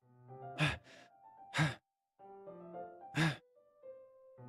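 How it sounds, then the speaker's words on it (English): Sharp breaths are sucked in through the teeth, three distinct hissing inhales spaced over a few seconds, close and fairly loud against quiet tonal background music in a Minecraft-style game. "A sharp inhale, like someone is sucking the air through their teeth."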